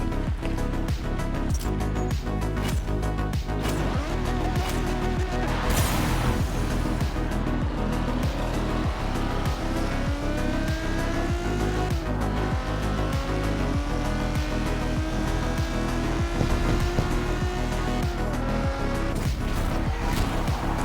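A Ferrari GTO races in Forza Motorsport 7, its engine roaring loud and continuous with rising revs and gear changes sweeping through the whole stretch, plus hints of tire squeal, with no voices.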